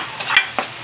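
Native chicken sautés with garlic, onion and ginger for adobo, a soft sizzle broken by two quick spatula scrapes against the pan in a very short close burst.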